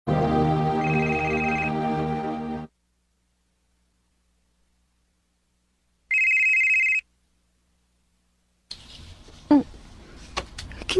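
A cellphone rings with an incoming call, a sustained electronic ringtone for a few seconds, then a short second burst after silence, followed by faint rustling and handling noises.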